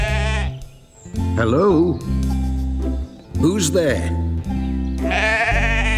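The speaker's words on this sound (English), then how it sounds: "only a sheep" A sheep bleats twice in a farmyard, loud and close, each call a wavering drawn-out cry, with a person speaking briefly before and between the calls.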